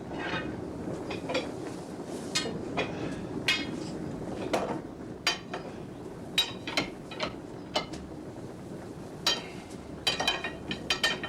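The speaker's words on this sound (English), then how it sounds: "During the last hour of cooking, stirring is continuous." Fruit juice boiling in a large pot in a traditional kraut cooker is stirred continuously, with a steady low bubbling bed broken by frequent sharp metallic clinks and scrapes of the stirrer against the pot, irregular and close.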